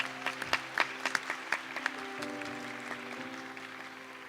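A congregation claps faintly at a distance, a scattered burst of handclaps over the first two seconds that thins out beneath a soft, steady musical tone.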